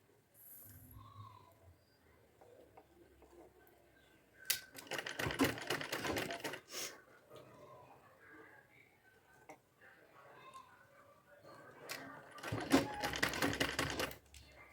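A sewing machine stitches a baby frock at home in two loud rapid bursts of whirring clatter, separated by quieter stretches with someone speaking softly.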